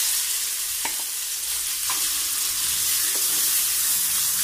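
Onion coconut chutney sautéing in a pan, a steady close frying hiss broken by a few light scrapes of a spoon stirring, with no voices.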